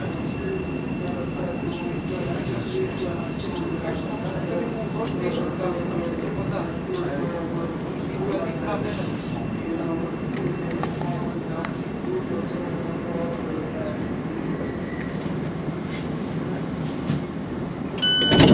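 A Thameslink train pulls into Brent Cross West railway station, a steady low rumble holding at close range throughout with some rattling, and a voice talking over it.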